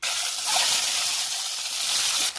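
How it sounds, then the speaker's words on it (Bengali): Peeled boiled eggs coated in salt and turmeric fry in hot oil, a loud, continuous close sizzle and hiss that holds steady throughout. "এবার তেলে ভেজে নিচ্ছি।"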